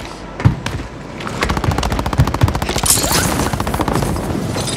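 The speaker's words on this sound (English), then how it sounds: "It's just such a dumb gun." Rapid automatic gunfire from a weapon in Call of Duty Warzone on Rebirth Island, a dense fusillade of sharp shots rattling continuously for several seconds with a few heavier thumps mixed in.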